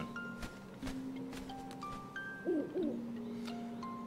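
An owl hoots in The Legend of Zelda: Link's Awakening, a brief wavering call amid chiptune game music and soft sound effects, faint and game-like.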